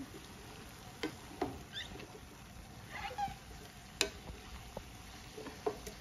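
A spatula stirs beef stir-fry with onion and tomato in a pan, giving quiet scattered scrapes and clicks over a faint low sizzle.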